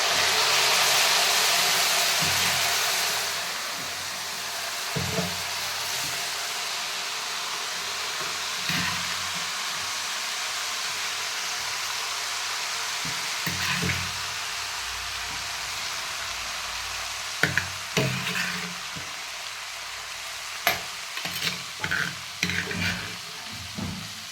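Lemon pieces dropped into hot oil in a pan for lemon pickle, with chilli powder already added and the stove switched off: a loud, dense sizzle at first that eases into a steadier frying hiss, broken later by scattered sharp pops and stirring clatter.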